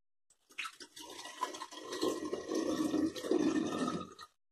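Cold water poured and splashing into a glass bottle during glass cutting, a bubbling, gurgling flow lasting a few seconds, close and moderately loud, with no talking.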